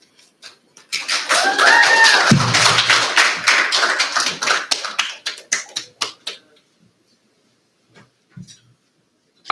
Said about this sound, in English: please clap once again for Halai Valu, Malo Alpito, Malo Ngau Elahi